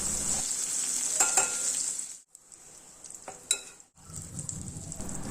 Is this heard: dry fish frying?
yes